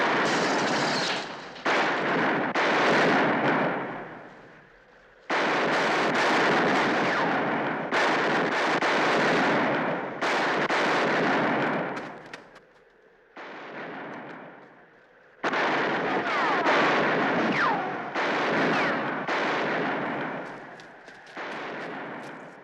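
Heavy gunfire in the John Wayne western Rio Lobo: loud, sustained volleys of shots in long bursts, broken by short quiet gaps and heard with no talk.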